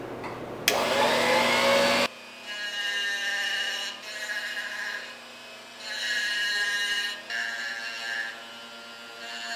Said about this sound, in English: the first thing I'm going to do is a little engraving with my Living Art engraver